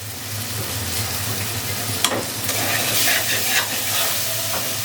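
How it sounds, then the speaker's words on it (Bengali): Chopped tomato, salt and fried spice paste cook in a pan for a Bengali fish-head and roasted aubergine dish, giving a continuous sizzle with scattered spatters and scraping stirs, close and without voices. "মশলা কষা হয়ে গেছে, দিয়ে দেবো টমেটো কুচি, বেশি করে টমেটো কুচি, স্বাদ মতো লবণ"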